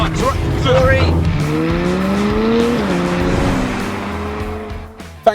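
Car driven fast around the Brands Hatch race circuit, a loud close engine note rising and falling through gear changes with a faint tyre squeal, under brief talk.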